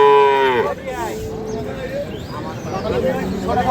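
A dairy cow lows loudly and close at a rural cattle market, one long drawn-out moo followed by softer calls and bustle, with people talking nearby.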